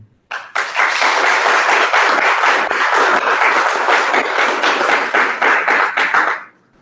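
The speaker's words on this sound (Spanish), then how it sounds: "al fondo escuchará un fuerte aplauso también" An audience at an academic lecture on learning and digital technology bursts into strong applause, starting abruptly, holding a loud, dense clapping texture with sharp individual claps, then cutting off near the end.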